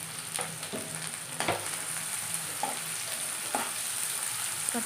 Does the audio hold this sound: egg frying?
yes